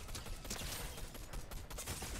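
Rapid video-game gunfire in Fortnite, a dense, fairly faint burst of repeated shots crackling continuously throughout.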